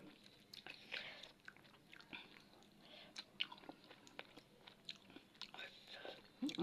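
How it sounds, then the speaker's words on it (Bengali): Close chewing and biting while eating a Bengali meal of dal with mashed potato bhorta. Soft, irregular wet chews and small crunchy bites run steadily throughout, fairly quiet. "আমি যেমন টেস্টি করে খাচ্ছি, তোমরা কি খাবে?"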